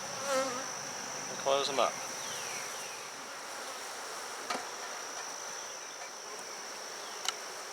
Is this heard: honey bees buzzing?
yes